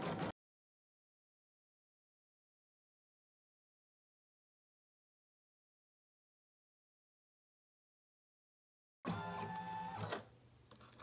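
An embroidery machine stitches a mustache onto a HEPA-lined fabric face mask held in a hoop, heard as a short mechanical burst at the start and a steadier whirring run near the end, with long silence between.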